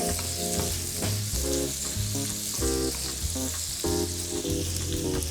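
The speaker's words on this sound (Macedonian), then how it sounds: "ставивме масло, ставивме самите парчиња сланина, пуштија масло" Bacon pieces sizzle and crackle steadily in butter in a pan, with a continuous hiss under clanking utensils and stirring.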